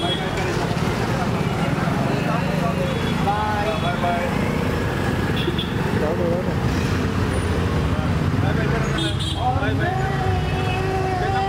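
Steady road noise from inside a moving car, a continuous rumble and hum without letup for over ten seconds, with people talking over it throughout.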